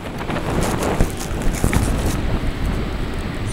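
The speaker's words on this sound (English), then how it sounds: "It's windy, really windy." Strong gusting wind on a Nova Scotia beach buffets the microphone in a loud, continuous roar with rough surges and thumps, drowning out other detail.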